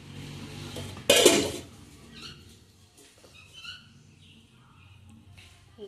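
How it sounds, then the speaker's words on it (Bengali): A lid is set onto a pot of egg curry with one sharp metallic clank, close and brief. Quiet kitchen sounds and faint movement follow. "দেখো ঢাকা দিয়ে দিলাম।"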